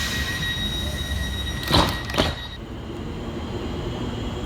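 Southeastern Class 465 electric multiple units arriving into Waterloo East station at peak time, a steady rumble with two sharp bursts of wheel squeal and a high electric whine that fades.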